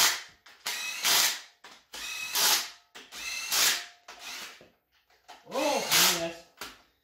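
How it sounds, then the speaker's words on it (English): Rapid impact wrench bursts fastening bolts during assembly of a turbo 5.3 LS 4x4 Ford Ranger build, about five loud whirring-hammering runs separated by short pauses, with a voice exclaiming over them. "Oh boy, the impact comes back out."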